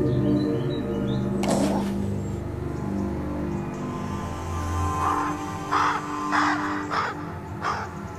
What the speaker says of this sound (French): L'oiseau noir appelle encore son compagnon de chasse.